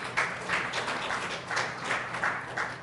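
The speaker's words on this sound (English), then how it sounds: "A loud hand of applause for all these beautiful women." Brief applause from a conference audience, fairly soft, with the clapping swelling and easing in a loose rhythm.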